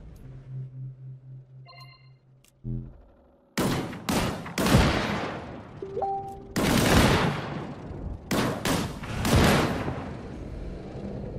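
Loud bursts of rapid gunfire from a primary weapon in the Disintegration video game, with several long volleys split by short gaps, after a few electronic beeps and tones.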